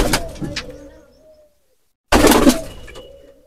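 Domestic pigeons kept at home coo in two bursts separated by a silent gap, the first fading out and the second starting loud and close, with some rustling around them.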